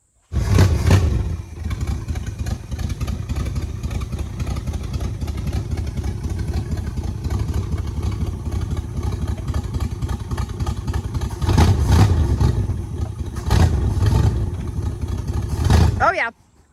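A 1966 Buick Sport Wagon engine runs steadily at a low rumble for the full stretch, with a few louder bursts as it is shifted into gear and revs; people talk over it.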